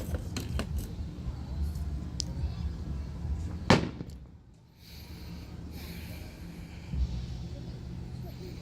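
Fireworks burst at the Syracuse Nationals car show, a few scattered thumps and one sharp loud crack over a constant outdoor crowd murmur, with people chatting nearby.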